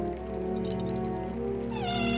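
A cat meows in the video game Zelda Wind Waker, one drawn-out, loud and close call that rises in pitch toward the end, with no talk over it.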